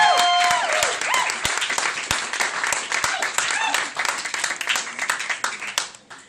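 Comedy club audience bursts into loud, dense applause and cheering at the end of a stand-up set, with whoops and scattered shouts throughout, gradually thinning toward the close.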